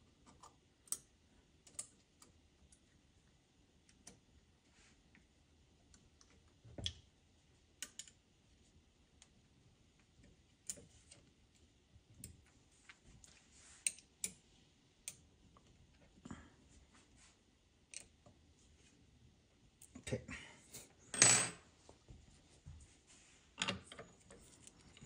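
Faint scraping clicks and short gritty rasps from the burrs of a DF64P coffee grinder touching as its shaft is turned by hand, coming in irregular bursts with a louder cluster near the end, close up in a quiet room.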